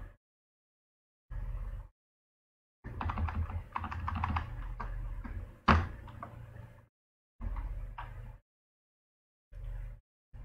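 Bursts of typing on a computer keyboard, clustered key clicks in several separate runs with silent gaps between them, close and clear with no talk.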